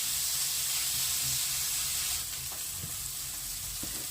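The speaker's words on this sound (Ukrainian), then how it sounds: "Не забуваємо помішувати ковбаску, щоб вона посмажила під масличком." Sausage frying in oil in a pan makes a continuous bright hiss that drops a little quieter halfway through, with a few faint stirring clicks. No one speaks.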